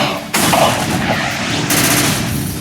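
Missile attack in the Xenosaga Episode III video game, a loud burst of dense explosive blasting that starts abruptly and roars on for over two seconds with a sharp renewed crack partway through.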